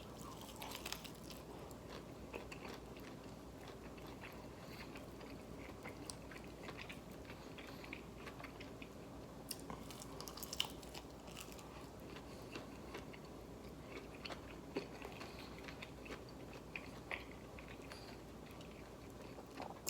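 Biting and chewing on lemon pepper chicken wing drums coated in butter, close and quiet, with soft crunchy bites and wet mastication repeating steadily throughout, no talking.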